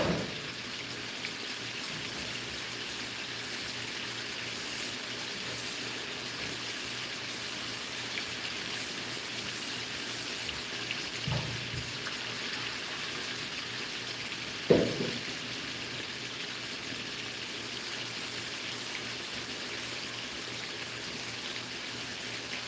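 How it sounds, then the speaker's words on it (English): Tap water running steadily while kale is rinsed in a home kitchen, a continuous close hiss of flowing water with a couple of brief splashes and knocks. "I'm gonna rinse my kale."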